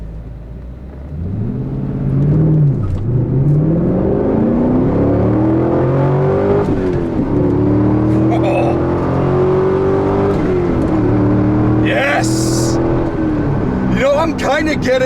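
A 2002 Pontiac Firebird Trans Am launches hard from a stoplight, its engine note climbing loud and close through the gears with brief dips at each shift, a sustained rising roar over road rumble.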